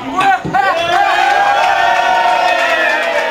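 A loud carnival concert crowd cheers and whoops for the choreographer, a dense roar of many voices that swells at first and then holds steady throughout.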